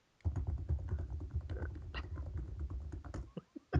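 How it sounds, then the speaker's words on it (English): Steady clattering of keys being typed on a computer keyboard, a dense run of quick clicks and taps close up, with no voices. "Just typing."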